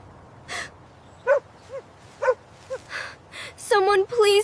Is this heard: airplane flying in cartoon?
no